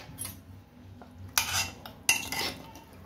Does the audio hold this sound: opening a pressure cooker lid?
yes